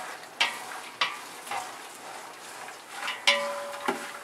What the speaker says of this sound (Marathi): आता हे चांगलं लालसर असं भाजून घ्यायचं